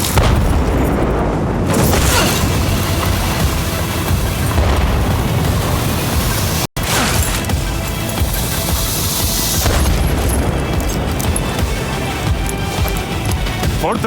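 Heavy explosions and rumbling blasts in the video game Battlefield 4, set at the Suez Canal in Egypt, a continuous loud barrage with dense low booms, briefly cut silent midway before the roar resumes.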